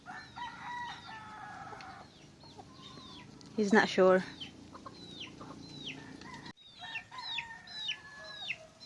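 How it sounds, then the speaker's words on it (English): An adopted bird that landed at a resort in the Philippines and cannot fly, heard alongside nearby rooster crowing and clucking fowl, with a loud burst of calls midway and someone talking briefly. "we have an adopted bird. It landed here and it was unable to fly"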